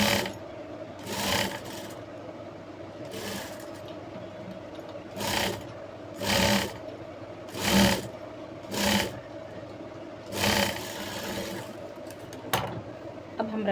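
Sewing machine stitching the front side of a jumpsuit, running in repeated short bursts of motor whir with pauses between them, close and fairly quiet.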